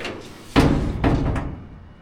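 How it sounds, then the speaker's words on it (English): Two solid thumps in quick succession, close by, from a door shutting on a 1951 Ford rat rod truck in a workshop. The second hit is slightly softer and the sound dies away fast. "I can open a door."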